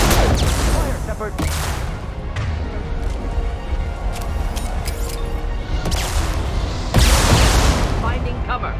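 Rapid gunfire and booming blasts from a Mass Effect 2 firefight run loud and dense throughout, with a heavier burst near the end and a voice talking over the shooting.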